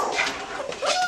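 Six-week-old puppies whimper and yip in a garage, several high, thin whines overlapping close by in short rising cries with no talking.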